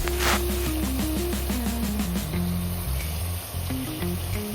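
Mutton sizzles and fries with onions and chillies in a seasoning of tempered spices for sambar, a steady loud crackling hiss, with a faint music bed underneath.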